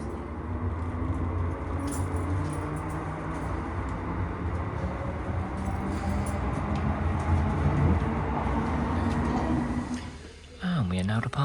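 A train pulls out of Glasgow Central station with a steady rumbling roll and faint rattling, fairly loud and continuous, easing briefly near the end before resuming.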